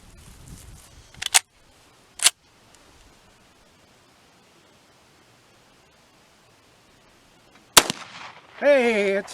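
Old case-colored gun fired outdoors: two sharp, loud cracks a second apart, a long quiet stretch, then another crack followed by a person talking.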